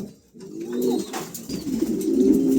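A pair of Andalusian pigeons cooing up close, a steady low burbling coo that swells and continues throughout, with a brief quiet moment at the start.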